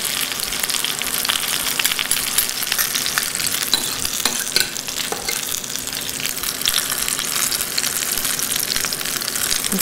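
Yam fritters bound with egg fry in hot oil, a steady, loud sizzle with crackling pops and bubbling that runs unbroken throughout, close up with no talk.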